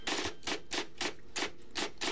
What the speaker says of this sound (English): Tap, tap, tap. That's a typewriter.